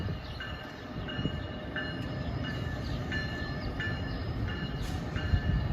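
Train at a New Jersey station platform, a steady rumbling rail background with faint, repeated high whines and squeals recurring about once a second, fairly distant and without talk.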